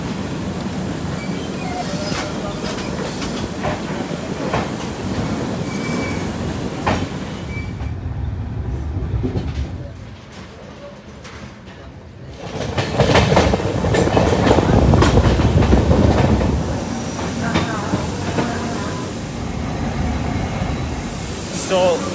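The Avadh Assam Express rolls along in an AC coach, a steady rumble with clickety-clack wheel beats that briefly drops quieter, then surges louder again. A voice talks over it.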